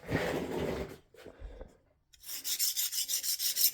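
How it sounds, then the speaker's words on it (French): A metal file rasps across a hardened steel knife blade in a test of its temper, an opening scrape followed by a pause and then a run of rapid, rhythmic back-and-forth strokes close by. "On va faire le test de la lime."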